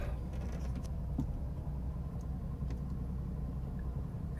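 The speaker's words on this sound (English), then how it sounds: "So put the car in reverse." A 1985 Jaguar XJ6 with 54,000 miles idles steadily as it is shifted into reverse, giving a low, even engine rumble close by with a faint creak and no talk.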